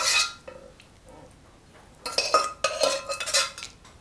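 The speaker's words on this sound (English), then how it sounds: "We'll now dish it out to serve." Metal spoon clinking and scraping against a pot and plates while serving soy mince and aubergine curry, a few sharp clinks followed by a busier run of scrapes and taps, close and clear.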